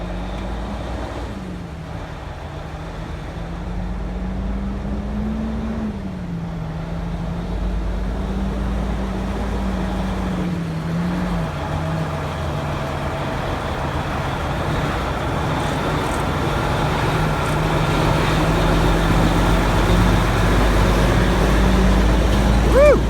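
A heavy oversized-load truck with many wheels rolls past through rainy downtown traffic, a steady low engine drone with wet road hiss, holding near and loud for the whole stretch.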